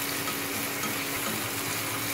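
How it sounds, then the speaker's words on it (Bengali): Spices and tomato sauce frying in a pan for a spicy chicken pasta, a dense, continuous close-up sizzle with no talking. "2 চামচ টমেটো সস, এই সবগুলো পরিমাণ একটু ভালোভাবে ভেজে নেবো।"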